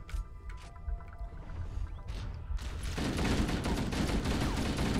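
Gunfire from enemies strikes at the player in the video game Halo, dense rattling bursts of shots that build into a loud, continuous barrage.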